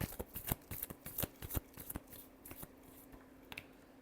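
Tarot cards being shuffled close by, a quick run of crisp riffling snaps that slows and thins out toward the end, quiet and with no talking.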